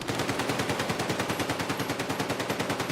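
A minigun firing continuously in a shooter video game: a fast, even, loud mechanical rattle of shots that holds steady throughout with no pauses and no voices.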